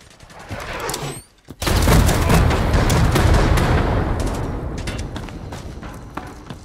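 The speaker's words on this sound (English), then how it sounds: "Elite mortar support inbound." A mortar barrage in the tactical shooter Hired Ops: after a brief lull, a sudden heavy blast opens a dense, rumbling stretch of overlapping explosions and crackling gunfire that slowly tapers off, loud and close.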